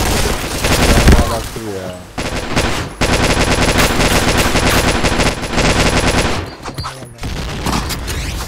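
Rapid automatic gunfire from a Point Blank online shooter match, sustained bursts of machine-gun fire spraying almost continuously with brief pauses, loud and close, mixed with game effects.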